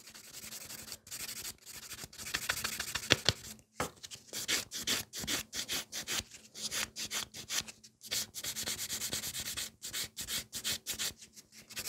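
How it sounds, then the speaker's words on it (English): A nail buffer rubs across gel-polished fingernails in quick, rhythmic back-and-forth strokes, close and steady. There is a brief pause partway through before the scrubbing resumes. "I can buff my nails. So I'm just quickly going with the buffer."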